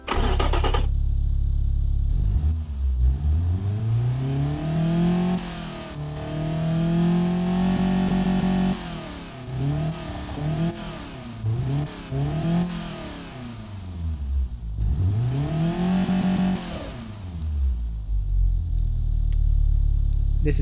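A replica of the Zaz 1102 Tavria's 1.1L engine in the Automation game cranks and fires up, then revs repeatedly, climbing and falling in several long sweeps and short blips before settling back to idle, close and loud with no talk.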